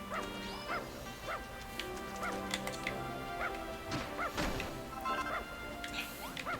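A dog barks and yips repeatedly in Dragon Quest Builders 2, short sharp barks over game music and crashing, whacking digging effects, no talk.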